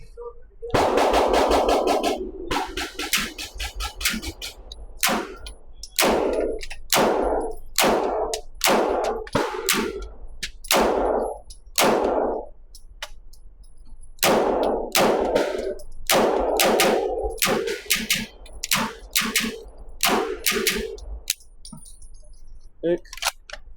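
A MAC MP5K HK clone in RAL 8000 fires sharp, loud reports, mostly single shots and short bunches spread over the stretch, with brief mechanical clatter between them.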